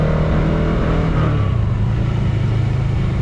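A new motorcycle rides slowly along a narrow road, its engine giving a loud, steady low rumble close up, with no speech.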